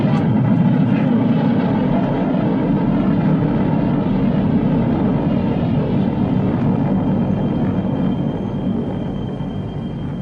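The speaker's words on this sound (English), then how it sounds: "10, 9, 8, ignition sequence start. 6, 5, 4, there's fire." A rocket engine ignites and roars through launch, a steady, loud, broadband rumble that holds for several seconds before easing slightly toward the end, with no voices over it.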